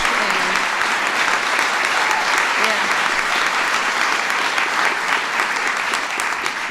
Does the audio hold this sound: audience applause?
yes